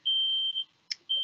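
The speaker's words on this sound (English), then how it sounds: "it appears as though the alarm might be going off" Building smoke or fire alarm sounding loud, close beeping tones in two long blasts separated by a short chirp, alone without talk.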